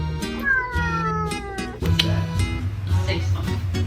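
A pet cat meows, its calls sitting over a busy, loud backing track that runs throughout.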